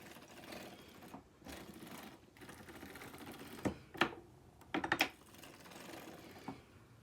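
Hand-cranked circular sock knitting machine working a yarn project, giving a steady soft mechanical clatter with a few sharper clicks and knocks near the end, fairly quiet and without talk.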